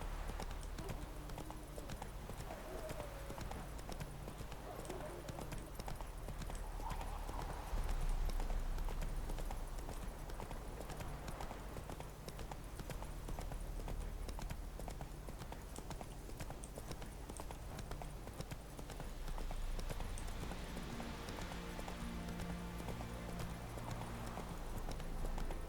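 Hooves of Geralt's horse Roach in The Witcher 3 clip-clop steadily at a quiet level over a constant ambient game background, with a faint whinny mixed in.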